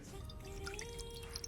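Water poured into a kadai (pan) while cooking pineapple pulissery, a faint trickling, dripping pour with a rising gurgle, quiet and alone.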